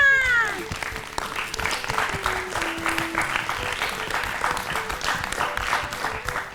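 Children in a classroom burst into sustained applause, a dense wash of clapping over several seconds that opens with a brief tonal sound and carries voices and cheering underneath.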